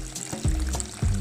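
Bagoong fish sauce is poured into a pot of boiling water with vegetables for Ilocano dinengdeng, giving a close, bubbling splash with two short heavier gushes.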